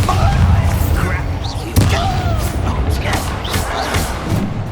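Bombarda blasting spell bursting in Hogwarts Legacy, a series of heavy booming impacts with crackling debris over a dense, rumbling battle din, one sharp thump standing out midway.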